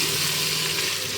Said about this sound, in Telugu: అల్లం వెల్లుల్లి పేస్ట్ కూడా ఆయిల్లో ఫ్రై అవ్వాలి